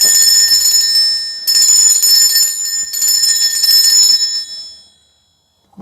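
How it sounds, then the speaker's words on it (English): A cleansing bell rings loudly and close in three bright sustained strikes with shimmering overtones, the last one fading into silence. "Turn down your listening device, because this bell can get quite loud."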